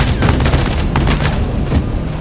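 Gunfire rattles in the video game Valkyria Chronicles 4 as a dense, loud burst of rapid shots and booms that continues without a break.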